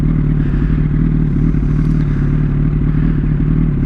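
A Honda CBR RR sport motorcycle runs steadily and loud close by, its engine a constant droning rumble with a faint clattering edge throughout.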